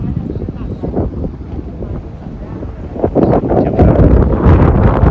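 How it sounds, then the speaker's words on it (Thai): Strong wind buffeting the microphone outdoors, a rough low rumble that surges and grows louder in the second half, with no voices over it. "ลมแรงครับ"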